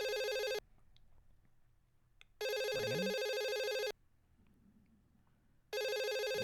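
A telephone rings in two long electronic bursts separated by quiet pauses, with a third ring beginning at the end; fairly faint with low background hum.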